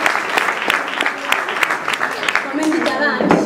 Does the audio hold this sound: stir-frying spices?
no